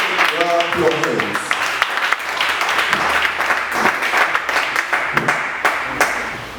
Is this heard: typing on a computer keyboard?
no